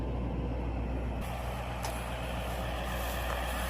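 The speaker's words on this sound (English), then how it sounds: "So passenger side, this truck's currently running." A 2016 GMC 3500HD pickup with the 6.6 Duramax diesel idling, heard up close as a steady, loud, low rumble with no talking.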